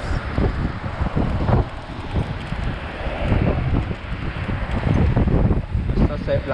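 Strong wind roars and buffets the microphone while riding a Xiaomi Pro 2 electric scooter to work. The gusts are loud and steady and rise and fall throughout, with faint voices mixed into the rushing noise.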